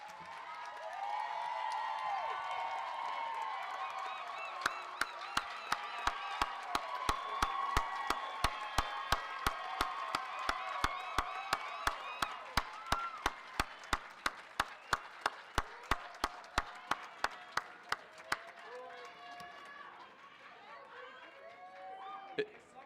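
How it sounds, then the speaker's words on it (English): An audience at a college business commencement ceremony applauds the graduates, a sustained crowd of clapping under a voice, with sharp rhythmic claps standing out before fading near the end. "Graduates, please stand and receive our applause and congratulations"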